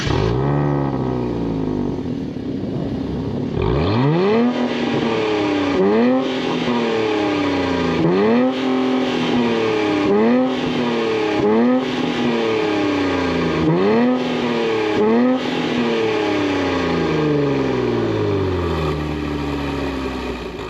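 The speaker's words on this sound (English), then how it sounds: "this is a twin turbo V6. So let's go ahead and fire it up so you can see how it sounds" A 2024 Nissan Z Nismo twin-turbo V6 cranks and fires up, then blips through a string of sharp, rising revs that fall away between each throttle stab, loud and close with no talking.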